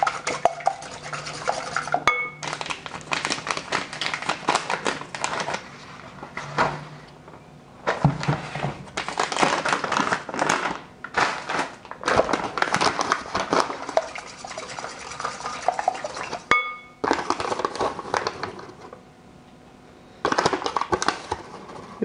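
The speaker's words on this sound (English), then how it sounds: "Give it a whisk." Rapid rhythmic whisking in a bowl while making a crispy fried chicken batter, a close, bright metallic scraping and clicking in several long bursts separated by short pauses.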